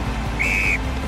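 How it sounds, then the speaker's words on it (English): An ice hockey referee blows a single sustained whistle blast lasting about a third of a second, loud and clear over a low arena murmur. "Hear the whistle."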